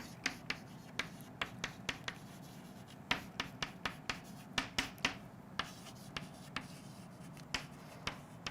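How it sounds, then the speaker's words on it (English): Pen or marker scratching across paper in quick, irregular strokes, close and quiet, with a low room hum underneath and no talking. "so we can write that down."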